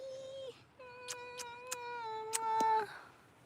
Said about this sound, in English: She's a kitty and I love her.